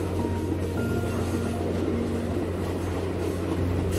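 Steady low rumble and drone of a slow train running through the 6,379-meter Samalada Tunnel in the Daliang Mountains of China, a continuous enclosed roar with faint tonal hums.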